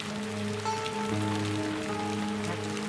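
Heavy rain pours steadily as a dense, continuous hiss throughout a Marathi TV drama scene, with a sustained musical drone layered over it.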